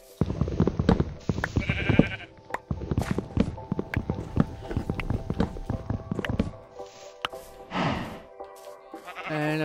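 Repeated sheep bleats in Minecraft ring out among clattering, stepping noises and short electronic effects, fairly close.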